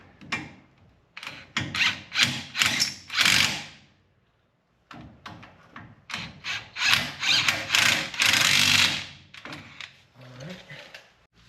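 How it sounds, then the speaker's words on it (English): Ratchet tightening a 12mm bolt on a Toyota Tacoma brake caliper, heard as two close runs of rapid clicking strokes split by a short pause, with no talk. "we're going to put this 12mm bolt back on"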